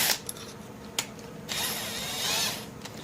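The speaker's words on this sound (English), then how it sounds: "So these should drill pretty easy now that we've got a pilot hole." A power drill whirs in short, close bursts through a pilot hole in metal and then runs steadily for a moment, with a faint high-pitched grind.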